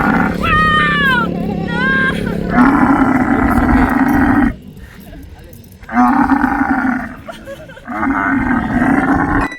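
A camel in Cappadocia gives long, loud, close groaning bellows during a ride, in several drawn-out bursts separated by brief quieter gaps.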